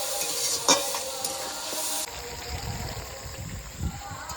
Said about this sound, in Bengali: জল দিয়ে ভালো করে নেড়ে চেড়ে আরেকটু কষিয়ে নেব।